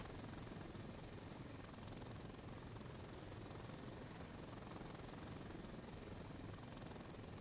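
A helicopter engine in the video game Thunder Helix roars steadily with a dense, unbroken rotor drone, constant and close throughout.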